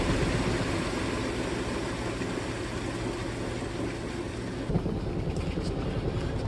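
Portable compact automatic washing machine running its spin cycle with a steady low hum and rumble, a constant mechanical drone that shifts slightly near the end.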